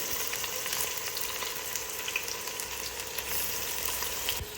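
Sliced onions fry in coconut oil with cloves, cinnamon and cardamom, giving a constant close crackling sizzle with faint stirring touches, heard alone without speech.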